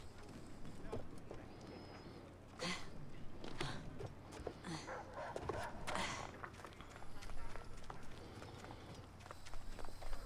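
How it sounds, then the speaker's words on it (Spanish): Horse hooves clip-clop at a riding pace in Assassin's Creed Origins, soft and fairly distant beneath game ambience, with someone talking over them and occasional louder thuds. "Es el caballo de Bayek, pero no el caballo de allá."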